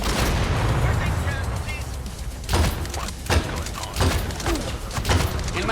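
Grenade blasts and gunfire in the game Crime Boss: Rockay City, several heavy thumping bursts over a constant noisy battle din, with voices talking among the shots.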